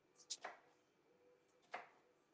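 Vegetables are chopped with a knife in a home kitchen where raw onion is being prepared, giving a few quick, faint knife strikes on a board followed by one more after a pause, with no talk.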